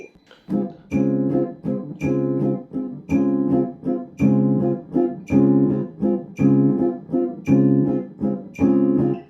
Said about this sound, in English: the metronome is going to be on 2 and 4 with the quarter note at 110 beats per minute today